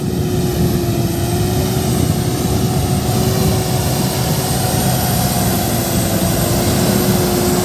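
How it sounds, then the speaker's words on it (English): Loud, constant engine roar of a Solis 110 HP tractor pulling cultivators, with a thin steady turbocharger whistle sustained on top, unbroken the whole time. "you can easily hear the whistle of turbo"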